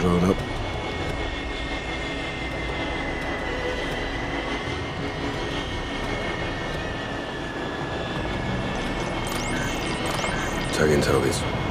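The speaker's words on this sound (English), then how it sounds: "Recon drone up." A recon drone flies in Call of Duty: Modern Warfare during a chemical base reactor mission, giving a steady, droning aircraft-like engine hum that runs throughout. A few brief mechanical clatters stand out near the end.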